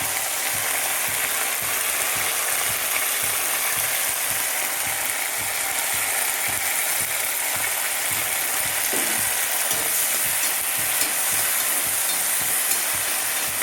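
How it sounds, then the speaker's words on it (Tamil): Ginger garlic paste sautéing in an iron pan for green peas gravy, a steady loud sizzle with rhythmic scraping and stirring throughout and no talk. "அப்படி ஒரு ரெண்டு நிமிஷம் நல்லா வதங்கிட்டோம் பாருங்கள் நல்லா வதங்கிடுச்சு"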